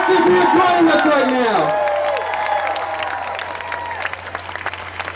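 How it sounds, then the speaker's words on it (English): A crowd at an outdoor immigrant-families rally in Brooklyn cheers and claps loudly, whoops rising and falling as the applause slowly thins into scattered claps, with voices calling out over it. "give another round of applause for the people still streaming in off the bridge"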